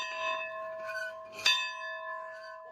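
A church bell rings with long, sustained humming tones, struck again sharply partway through and left to resonate, with no voices.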